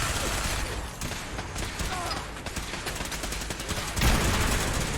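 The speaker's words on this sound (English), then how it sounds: "It's my turret slaying rifle." Rapid rifle gunfire in Fallout 4, a dense string of sharp repeated shots with mechanical clatter, loud and continuous, with a heavier burst near the end.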